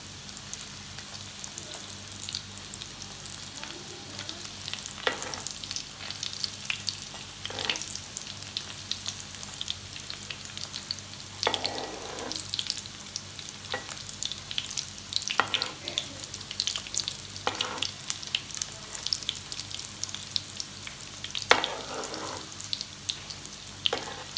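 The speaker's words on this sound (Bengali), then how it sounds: "কিছুক্ষণ এটা ফ্রাই হতে থাক।" Potato chops (aloo chop) frying in hot oil, a steady close sizzle with soft crackles throughout and a few brief scraping or stirring touches.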